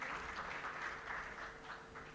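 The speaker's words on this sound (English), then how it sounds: "Can we clap for them again?" Steady applause from an audience, a continuous patter of many hands clapping at an even level throughout.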